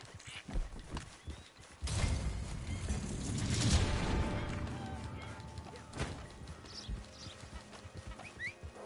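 Rapid, uneven clopping of horse hooves in Red Dead Online, with rumbling and scattered clatter, moderately loud throughout.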